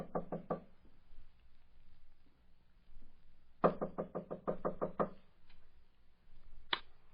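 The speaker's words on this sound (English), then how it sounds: "I'll knock." Knuckles rap on a wooden door in a radio drama, a quick burst of three or four knocks, then a longer run of about eight, and one final knock, fairly close over quiet room tone.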